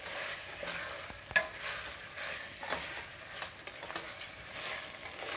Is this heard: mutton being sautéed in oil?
yes